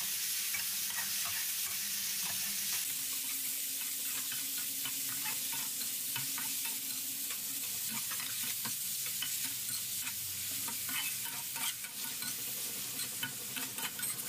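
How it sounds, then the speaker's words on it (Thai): Liver stir-fried with garlic in a pan, a steady dense sizzle with occasional stirring clicks throughout, close and continuous with no talk. "เมื่อกระเทียมของเราหอมได้ที่แล้วแล้วก็ตามด้วยตับที่เราหั่นเตรียมไว้นะครับจากนั้นเราก็ผัดจนตับสุกครับ"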